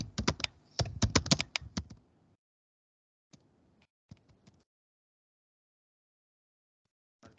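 Rapid keystrokes on a computer keyboard clatter in a dense burst for about two seconds, then fall silent, followed by a few sparse isolated key taps and a final click near the end.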